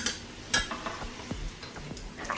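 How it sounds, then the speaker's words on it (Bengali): Frozen kebabs and samosas frying in a little oil in a pan, with a soft sizzle under scattered scrapes and clinks of a utensil moving the pieces, close and fairly quiet. "আর আমি যা যা কালকে ফ্রোজেন করছিলাম সব এখন বিসমিল্লা করে এগুলো সব এখন ভাজতেছি"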